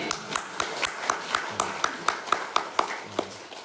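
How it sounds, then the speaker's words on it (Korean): A church congregation claps in thanks, with sparse distinct claps falling in a loose, roughly regular rhythm, moderately near and fairly quiet. "이 모든 은혜를 주신 하나님께 감사의 박수를 올려드립니다."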